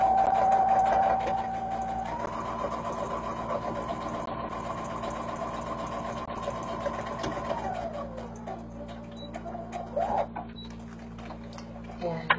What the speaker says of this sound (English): So I'll come over here and I will sew